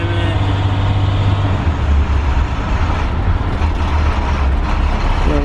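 A 2013 IC CE300 bus engine pulling at full throttle on back roads, a loud, heavy diesel roar with deep low rumble and a rising tone, close and sustained throughout.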